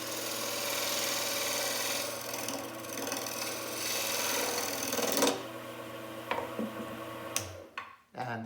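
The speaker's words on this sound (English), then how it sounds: "I'm going to use just a little skew here." A small skew chisel cuts on a small wooden bowl spinning on a lathe, with a steady motor hum and scraping tool contact, then a few sharp ticks as the lathe winds down.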